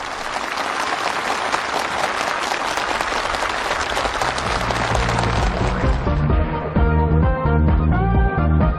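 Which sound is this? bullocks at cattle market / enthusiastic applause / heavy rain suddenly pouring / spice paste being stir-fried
enthusiastic applause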